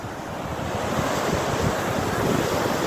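Surf rolls onto a sand beach at Colwyn Bay on a rainy day, a continuous rushing wash of waves mixed with buffeting wind noise on the microphone, with no talking.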